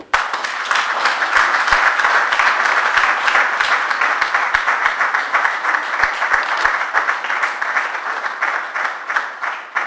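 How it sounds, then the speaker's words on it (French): An audience applauds members of the UFC Benelux organising committee at an official event in Belgium, with steady sustained clapping from a crowd that fills the room throughout. "Mesdames et messieurs, je vous demanderai de bien vouloir les acclamer."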